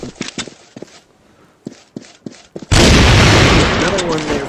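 Flash grenade in CrossFire Mobile: a few scattered gunshots and footsteps, then a sudden loud blast that floods into a sustained bright ringing hiss lasting to the end.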